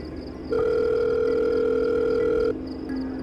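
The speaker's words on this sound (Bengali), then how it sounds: "প্রণতিকে একটা ফোন করতে হবে।" A steady telephone dialing tone rings out for about two seconds over faint background hiss in an audio drama, then cuts off abruptly.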